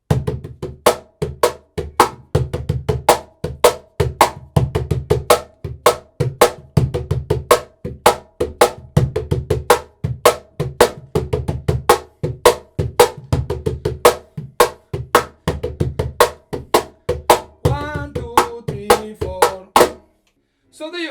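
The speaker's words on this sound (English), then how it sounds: "So there you have it, festejo on cajon" Afro-Peruvian festejo rhythm on a cajon, played alone and close: a steady, driving pattern of deep bass thumps and sharp slaps repeating for about twenty seconds before stopping.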